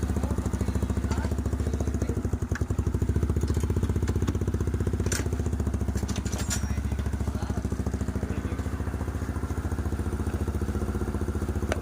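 A motorcycle engine runs steadily and loudly up close during a rev test, its dense pulsing drone swelling slightly early on before holding an even, rough note throughout.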